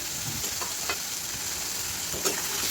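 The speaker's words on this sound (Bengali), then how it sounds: "এবার কিন্তু ভালো করে নাড়তে হবে যাতে ভাজা ভাজা হয়" A steady sizzle of mashed ivy gourd frying, with a spatula scraping and stirring through the pan and a few soft clinks now and then.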